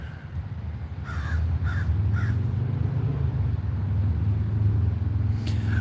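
Three quick crow caws ring out close together early on, set against a steady low rumble of passing road traffic that continues after the birds fall silent.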